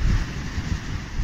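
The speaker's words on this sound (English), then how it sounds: "it's fairly windy and unsettled at the minute" Strong wind on a farm with out-wintering cattle buffets the microphone with a continuous loud rush and low rumble, no voices present.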